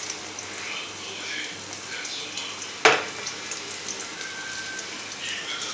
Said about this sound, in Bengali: পেঁয়াজটা হালকা ভাজলাম তো, এবার আদা রসুন কাঁচা লঙ্কা যেটা পেস্ট করে রেখেছিলাম সেইটা দিয়ে দেবো